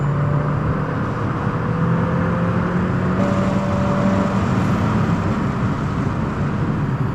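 A loud, continuous race car engine roar from inside the car on the La Ferté-Gaucher circuit, its pitch climbing steadily as it accelerates, with heavy road and wind noise underneath and no voices.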